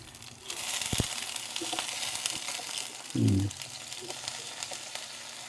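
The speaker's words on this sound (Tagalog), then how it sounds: "Parang ipapan-fry muna natin yung manok." Steady sizzling of chicken frying in hot oil, with a few crackles, scrapes and a brief low clunk from the pan.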